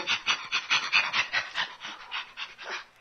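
A voice imitates a chimpanzee panting: a quick run of breathy, rhythmic huffs and pants, close and fairly loud, with no other talk.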